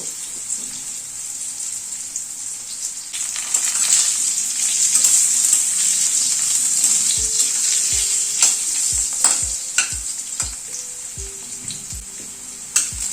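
Potatoes fry in a pan with a steady, loud sizzle throughout, and from about halfway a series of sharp utensil scrapes and knocks breaks in as the pieces are stirred.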